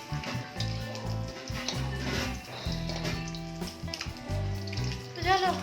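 Pomfret fish frying in a pan in a home kitchen, a steady sizzle running throughout with clatter, background voices and a bit of music layered over it.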